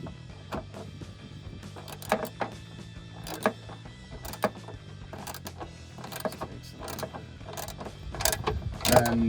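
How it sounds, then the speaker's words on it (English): Hand ratchet tightening 16mm bolts while fitting Barricade HD textured black rocker steps onto a 2021-2023 Ford Bronco, giving bursts of quick mechanical clicks with pauses between them, close and moderately loud, with no talk. "once it's hand tight, go to the ratchet"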